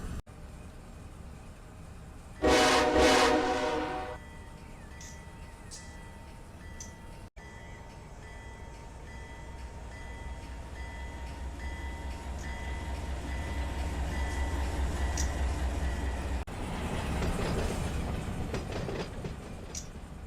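A locomotive in the Run8 Train Simulator rumbles along, with a loud horn blast early on and then a steady low engine drone building as the wheels click over the rails.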